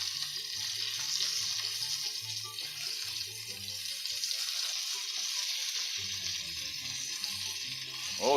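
Meatballs sear in avocado oil in a pan, giving a steady bright sizzle and crackle throughout, with soft background music playing under it.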